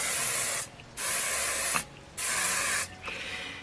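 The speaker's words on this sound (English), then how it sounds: "And you spray it with hairspray while it's wet." Hairspray can spraying onto wet hair in three long, loud hissing bursts with short pauses between them, close to the listener.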